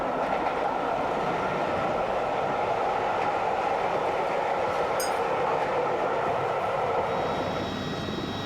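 The Flying Scotsman steam locomotive and its carriages roll along the track in Australia, a steady loud rumble and rush of wheels on rails that continues throughout with a brief metallic squeak near the end.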